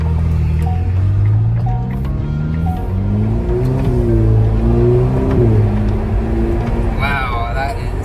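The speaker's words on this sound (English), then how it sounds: "Shifts of the gearbox, and the downshifts." A Ferrari Roma with an 8-speed dual-clutch gearbox in manual mode accelerates hard, its engine note climbing and dropping through quick gear shifts and downshifts, loud and close from inside the cabin. A voice exclaims near the end.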